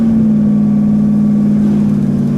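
A 1969 Pontiac GTO Judge Ram Air III engine holds a steady, loud drone up close, a constant deep tone with a faint rise in pitch and no talking over it.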